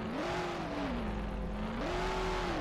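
A car engine roars in the video game Mafia: The City of Lost Heaven, its pitch rising and falling with throttle, then climbing again, heard alone with no talk.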